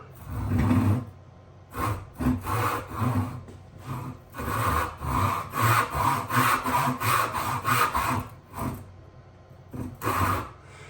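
Rhythmic back-and-forth rasp of a hand saw cutting wood, close and fairly loud, with steady strokes and a few brief pauses.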